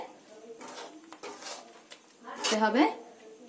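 A utensil scrapes and clinks against a pot while rice flour is stirred into palm cake batter over low heat, a few soft strokes followed by a louder clattering scrape near the end, close and fairly quiet.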